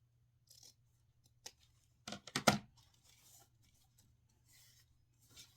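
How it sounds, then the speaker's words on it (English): Scissors snip through ribbon on a diagonal while making a Fourth of July bow, a few quick close crisp cuts clustered together amid faint rustling in an otherwise quiet room. "fold it together, and then you're going to cut in diagonal."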